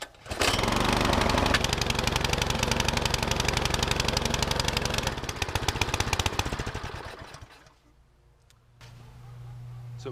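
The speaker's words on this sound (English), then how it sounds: "Now we're gonna start her up, see how she does." A Craftsman SB410 snowblower engine with a white-smoke fault starts and runs loud and rough nearby, then stalls into near silence before catching again at a lower, steadier idle.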